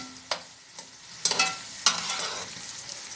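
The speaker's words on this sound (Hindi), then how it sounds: "ये हमारे अंडे देखें इस तरह से फ्राई हो गए हैं।" Eggs frying in a pan for Chinese pulao, a close, steady sizzle punctuated by a few sharp spatula strikes and scrapes, with no voices.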